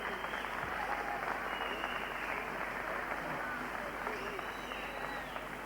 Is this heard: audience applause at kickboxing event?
yes